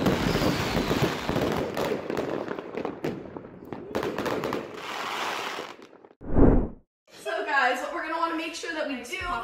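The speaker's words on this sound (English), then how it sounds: "Shouldn't they have chosen to set off fireworks at a high altitude?" Rapid crackling and popping of fireworks going off nearby, dense bursts followed by a sharp bang, then people talking.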